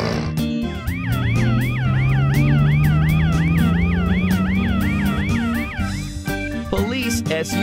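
Cartoon police SUV siren wailing in rapid, regular up-and-down cycles over a rising engine-like drone and background music, loud and close, ending abruptly.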